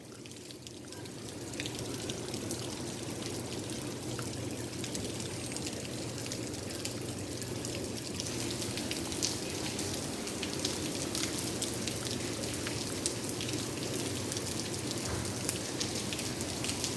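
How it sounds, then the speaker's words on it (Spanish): Cold rain falls steadily, a dense even hiss of drops on surfaces that holds constant throughout, with no voices. "mira gente, está fría esta lluvia."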